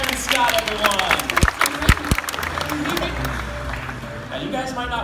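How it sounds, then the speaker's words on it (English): Audience applauding volunteers Karen and Scott at Disney's Up bird show at Animal Kingdom, scattered outdoor clapping from a crowd with a few sharp nearby claps, beneath a presenter's amplified voice. "Round of applause for Karen and Scott, everyone."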